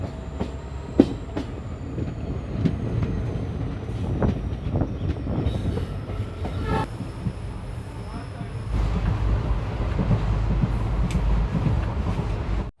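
A diesel-hauled passenger train on the Malda to Balurghat line, pulling into Daulatpur station, makes a steady rolling rumble with scattered wheel clicks and clanks, growing heavier and louder near the end.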